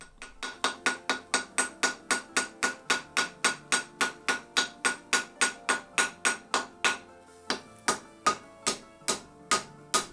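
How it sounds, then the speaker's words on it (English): A hammer forge-welds three pieces of twisted Damascus steel for a tanto knife blade. Close, loud metallic blows fall in a steady, even rhythm of about two and a half strikes per second, with no talking. "It's time to forge weld the three pieces together"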